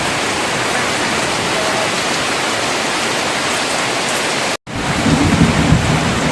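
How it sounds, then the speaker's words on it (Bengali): Heavy rain pours down in a dense, loud, continuous roar, cutting out for a moment and then resuming with a slightly more uneven texture. "কিন্তু বৃষ্টি অন্ধকার চলছেই"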